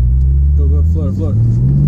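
A twin-turbo Porsche 911 engine at full throttle gives a deep, steady rumble that climbs slightly in pitch as the car pulls, with voices talking loudly over it inside the cabin.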